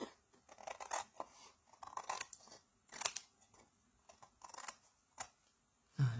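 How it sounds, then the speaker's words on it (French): Scissors snip off excess material from a papercraft cutout, a handful of crisp, separate cuts spaced out over a few seconds, quiet and close with no talking. "Alors ici, je vais juste venir couper le surplus qui dépasse."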